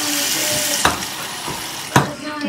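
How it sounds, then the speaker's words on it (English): Water runs from a tap into a blender jar in a home kitchen, a steady splashing rush with two brief sharper knocks from the jar, close and alone, with no voices. "take blender and you're gonna fill water just to the tip top"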